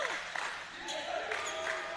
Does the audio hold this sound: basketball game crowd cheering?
yes